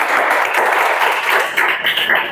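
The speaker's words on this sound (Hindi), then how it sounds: "ताली बजाओ कर लिए।" Hands clapping in unison across a Chhattisgarh police recruitment coaching class, a dense, steady burst of applause filling the room from start to finish.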